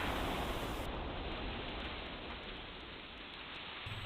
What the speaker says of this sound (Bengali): আরে বাইরে কি বৃষ্টি শুরু হয়েছে?